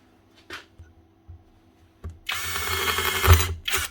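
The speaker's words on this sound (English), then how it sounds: "so I'll have to drill that out" A power drill whirs in short bursts while drilling out a cracked part on an angle grinder under repair: two brief blips, then a sustained high-pitched grinding run, a pause, and another short burst, close by.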